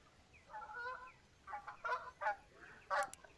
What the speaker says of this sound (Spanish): Tengo un pato que se me está riendo de mí.